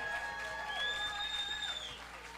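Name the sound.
audience applause at live stream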